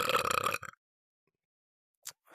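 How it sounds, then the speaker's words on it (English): A deep, loud burp rumbles out up close, then trails off into silence before a couple of small breathy sounds near the end. "I'm able to burp on command"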